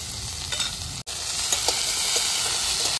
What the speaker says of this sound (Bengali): আলু আর বেগুন 3 থেকে 4 মিনিট ভালো করে ভেজে নিয়েছি